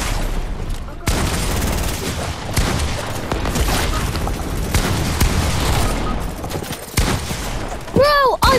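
Rocket launch and explosions in a video game, a dense barrage of loud blasts and gunfire that runs throughout, with voices talking over it.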